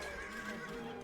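A horse neighs in a strategy video game, a brief whinny over a dense, steady wash of game ambience and battle noise.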